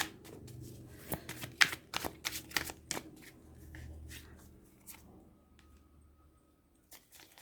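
Tarot cards shuffled and drawn by hand, a close run of crisp riffling slaps and soft flicks that thins out toward the end, heard alone without talk.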